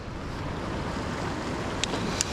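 Wind gusting along a winter sea coast during a cod lure-fishing session, a steady broadband rush of air and surf with a couple of brief sharp ticks near the end, no voices.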